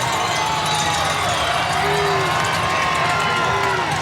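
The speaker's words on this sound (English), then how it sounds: "You can hear the crowd" A large crowd lining the Rose Parade route in Pasadena cheers and roars in a continuous, dense wash of voices, with faint whistles rising above the noise.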